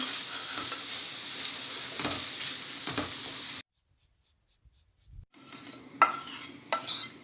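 Minced meat with parsley sizzles in a pan as it is stirred, with close scraping strokes, then a brief silence before stirring and sizzling resume with a few sharper scrapes.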